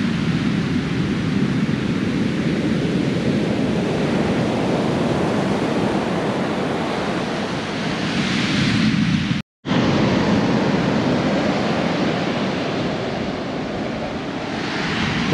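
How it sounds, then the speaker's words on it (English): Ocean waves breaking at Baker Beach, San Francisco, a loud continuous roar of surf with swelling and fading rushes, heavy wind rumble on the microphone and a brief dropout midway. "Pretty good size wave there coming in."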